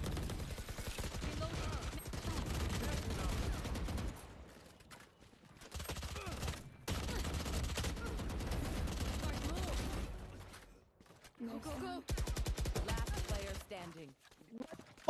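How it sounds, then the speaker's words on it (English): Rapid pistol fire in Valorant, with dense bursts of sharp repeated shots in several volleys broken by short pauses and mechanical clicks. "I'm gonna shoot my pistol"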